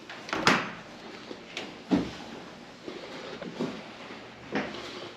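A hotel room door at Green Valley Ranch in Henderson, Nevada, opening with a few sharp clunks and latch clicks over quiet room noise.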